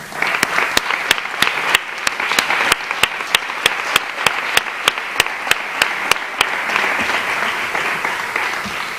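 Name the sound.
audience applause at Christmas concert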